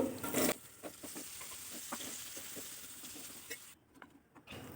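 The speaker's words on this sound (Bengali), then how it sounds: "আমি এখানে একটু আলুটাও ভেজে নিচ্ছি" Potatoes frying in a pan beside spices for posto paneer, a soft steady sizzle with light stirring scrapes and small crackles, fairly close and alone.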